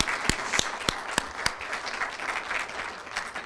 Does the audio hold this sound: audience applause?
yes